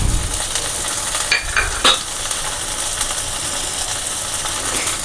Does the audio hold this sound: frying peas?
yes